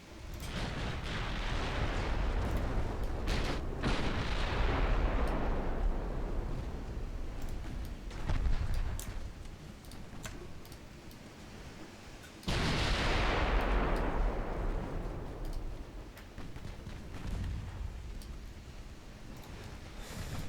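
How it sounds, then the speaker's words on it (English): Tank guns fire high-explosive rounds in a war video game, each shot a heavy boom that rolls into a long, thundering rumble, the shots overlapping into a continuous barrage. "Might as well fire off all the HE now."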